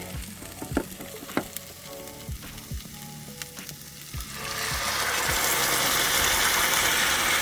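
Jalapenos and beans dumped into a hot pan on a van camp stove, breaking into a loud, steady sizzle that swells and stays dense after a few scattered clinks and scrapes earlier on.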